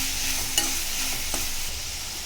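Onion and tomato sautéing in a pan, a steady close sizzle with a spoon scraping and stirring through it in a few distinct strokes.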